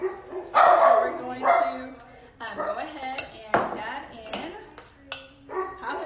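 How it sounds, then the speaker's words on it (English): Household dogs bark in a kitchen while someone prepares a chocolate cake, a few sharp barks breaking through a nearby voice and the clink of dishes and utensils. "you can hear our dogs in the background"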